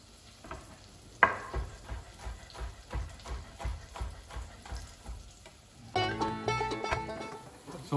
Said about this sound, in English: so we sweat the ingredients